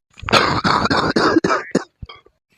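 A cartoon father coughs in a rapid burst of about six harsh, close coughs, followed by a couple of fainter rasps and a wheezy breath.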